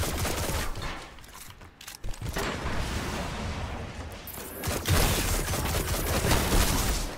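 Wormwood, a Future War Cult sidearm in Destiny PvP, fires dense bursts of game gunfire close and loud, with shots packed into the second half over a busy battle backdrop.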